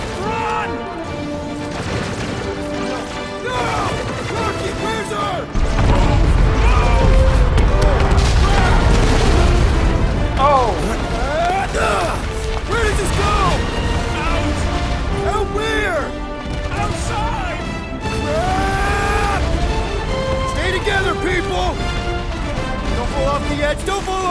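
Explosions and crashing debris in Marvel's Guardians of the Galaxy video game, a loud deep boom that lands a few seconds in and rumbles on under tense music and characters' shouting.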